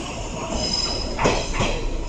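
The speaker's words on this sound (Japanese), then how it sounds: "次が6両編成で参ります。" A six-car Kintetsu train rolls into Yamato-Saidaiji station, its wheels squealing and rumbling along the platform, with a high sustained squeal and a rising pass of rail noise close by.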